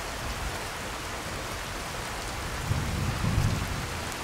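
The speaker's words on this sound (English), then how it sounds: "And it's still raining." Steady hiss of rain and a low rumble of thunder in the video game Skyrim, a continuous wash of downpour with the thunder swelling briefly near the end, no voices.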